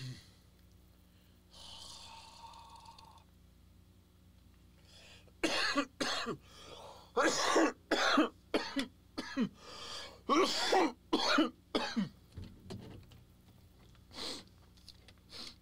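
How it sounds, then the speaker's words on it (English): A run of harsh, hacking coughs in quick bursts, close by, with throat clearing and a hiss of background noise before it. "and I know why I'm coughing"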